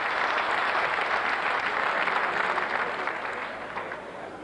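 Sustained crowd applause at a ladies' world darts championship final, a steady broad roar of clapping that gradually eases in loudness toward the end.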